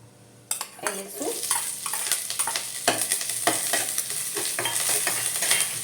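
Cumin, grated ginger, chopped chili and curry leaves being sautéed in a pan for a fasting khichdi, with a steady close sizzle and repeated scraping, clinking spoon strokes against the metal.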